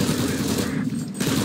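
Dense, rapid gunfire rattles continuously, loud and unbroken apart from a brief dip, like an automatic weapon in a game.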